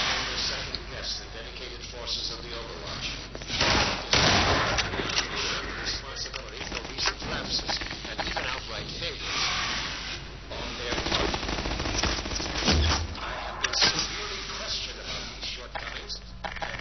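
Half-Life 2 gameplay gunfire comes through as repeated bursts of automatic shots and single cracks spread across the clip. It is mixed with game sounds and a voice talking over the action.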